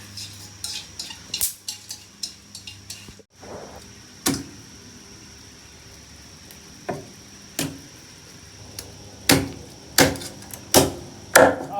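Sharp knife strikes on a board while chopping chicken into pieces, scattered at first and then a steady run of firm chops near the end, with faint clatter in between.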